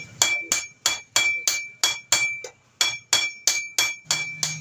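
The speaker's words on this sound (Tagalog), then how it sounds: "tinulungan po si Boy Takop magpanday po mga kawaray" Repeated sharp metallic blacksmith hammer strikes forging metal, ringing clanks spaced about a third of a second apart, close and loud, with no talking.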